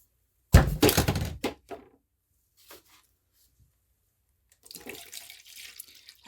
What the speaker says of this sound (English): I add my 8 ounces of water here